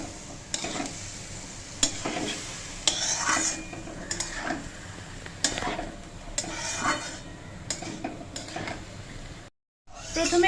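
Rice, dal, potato and cauliflower being stirred in a pan for soybean khichuri, with repeated scraping strokes of a spoon against the metal in an irregular rhythm, over a soft sizzle, close and moderately loud.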